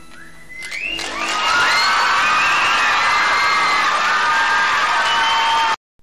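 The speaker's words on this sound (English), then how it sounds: "Listen to those screams." A large theatre audience at the Royal Variety Performance erupts into loud, sustained high-pitched screaming and shrieking that swells quickly and holds, then cuts off abruptly.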